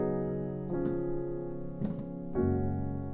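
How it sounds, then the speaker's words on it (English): Gospel piano plays a sus chord that resolves to the dominant chord, sustained chords struck in a few distinct attacks and ringing out clearly with no talking. "we like to go from the sus to the dominant"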